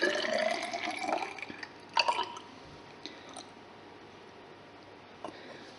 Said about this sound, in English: we're going to measure out to start with 50 centimetres cubed of hydrochloric acid using the measuring cylinder